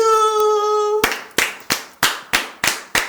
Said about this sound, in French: On applaudit très fort pour Christelle Liguet pour cette présentation du peuple Éoutilé